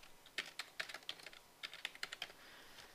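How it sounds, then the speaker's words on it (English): Someone types a factory password on a computer keyboard while setting up an IP camera, a quick, faint burst of clicky keystrokes in uneven clusters with short pauses between them. "I'm going to go ahead and type in the factory password that we use"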